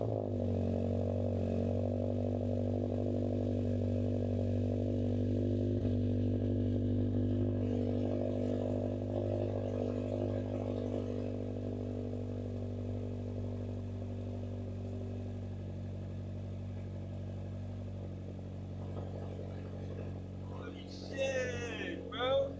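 A Toyota GR86 with a freshly installed single-exit catback exhaust runs steadily with a deep, continuous engine drone, the tone easing slightly as it settles, with a brief clatter near the end.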